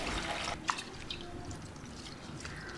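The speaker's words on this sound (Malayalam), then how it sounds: "ഈ ഒരു അരി നന്നായിട്ട് കഴുകി മാറ്റി വെക്കുക." Rice being rinsed in water for Hyderabadi biryani makes quiet, close sloshing with a few distinct drips, soft and intermittent.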